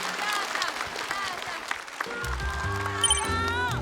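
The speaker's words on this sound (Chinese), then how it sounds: "我们掌声送给夏夏" Studio audience at a stand-up comedy competition breaks into sustained applause and cheering, dense clapping throughout, with a swell of music and warm tones entering partway through.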